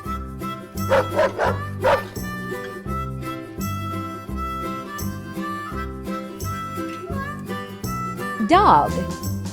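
A dog barks and yips in a few quick bursts near the start and again near the end, over steady background music.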